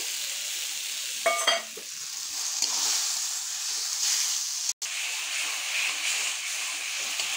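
Chickpeas tipped into taro greens frying in a pan, a steady close sizzle and hiss with a brief stir clatter early on, continuing evenly throughout.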